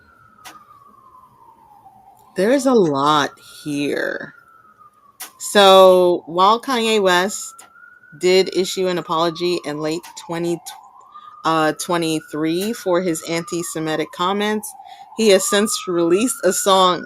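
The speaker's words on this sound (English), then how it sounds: "I'm sorry for the sirens." A siren wails in a slow rise and fall throughout, fairly distant, while a person talks continuously over it.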